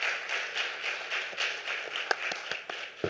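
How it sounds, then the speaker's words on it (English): Applause for authors and discussants at an academic competition conference session, a dense steady patter of clapping with a few sharper individual claps near the end, moderately close. "can we just give our authors and discussants a round of applause?"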